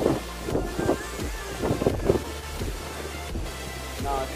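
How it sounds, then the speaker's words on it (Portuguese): Strong wind buffets the microphone on a boat trip along the beach at Pipa, Rio Grande do Norte, a steady rushing roar with gusty low thumps, an engine hum underneath and faint voices in the background. "Não sei se vai estar dando pra vocês ouvirem por causa do barulho do vento"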